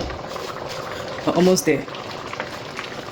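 Beans boiling in a pot of water seasoned with Maggi, a steady close bubbling hiss running throughout, with a person speaking briefly over it midway.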